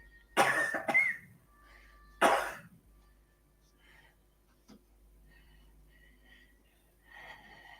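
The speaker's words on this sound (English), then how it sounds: "That cough's not going." Two loud harsh coughing bursts, one early and one a couple of seconds later, followed by quieter breathing and small sounds in a room, a persistent cough.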